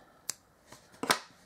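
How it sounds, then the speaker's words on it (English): A few sharp, crisp snips of embroidery scissors cutting yarn close by, separated by short pauses, with the last cut louder and longer than the others. "embroidery scissors and cut that off"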